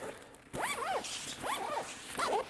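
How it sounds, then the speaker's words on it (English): A zipper on an Incase A.R.C. Travel Pack is pulled in three quick, rasping strokes with short pauses between, close and crisp. "there's always zippers to be zipped and unzipped for the functionality of this pack."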